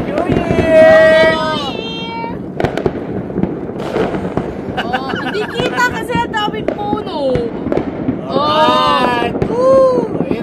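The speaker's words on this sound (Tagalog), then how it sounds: "Ganda ng fireworks" New Year fireworks burst repeatedly, cracking and booming against a constant background of loud cheering and chatter, with excited voices rising and falling over the explosions.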